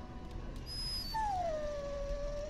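A warhound in the Dragon Age Origins video game lets out a single drawn-out, high whimpering whine that slides downward and trails off, heard alone over a soft background hum.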